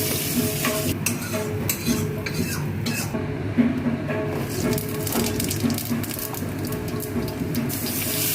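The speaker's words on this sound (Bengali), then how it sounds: "আমি মাছ ভেজে নেব।" Fish fries in hot oil in a wok, giving a continuous crackling sizzle with occasional scrapes and stirring clatter of a utensil against the pan; no one speaks.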